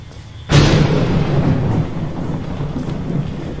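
Thunder in a dark horror video game, a sudden loud crack followed by a long, heavy rolling rumble that slowly fades under steady rain-like noise.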